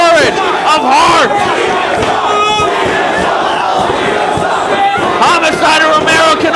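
A wrestling crowd at a Ring of Honor event in Dayton roars and chants in a loud, sustained, dense wall of cheering and yelling voices throughout.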